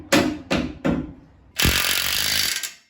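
An impact wrench fires three short bursts, then a longer sustained rattling run, driving bolts that fix a winch cradle to a D22 Nissan Navara; close, loud and without talk.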